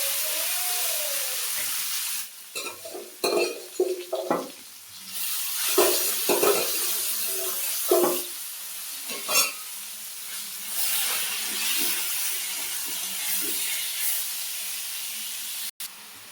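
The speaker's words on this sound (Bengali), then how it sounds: "এখন আলু আর সজনেগুলো দিয়ে দিলাম।" Potatoes and drumstick pieces frying with five-spice seeds in a hot pan give a steady loud hiss and sizzle, broken by clattering stirs and bursts of spattering in the first half, then settling into an even sizzle.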